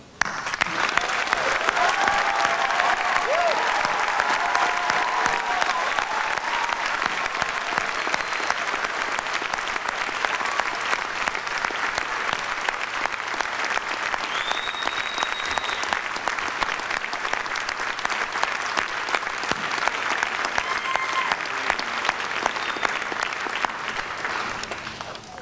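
A large commencement audience gives sustained applause to standing graduate students at a 2017 Virginia Tech National Capital Region ceremony, a loud, even roar of many hands clapping that continues without a break for nearly half a minute.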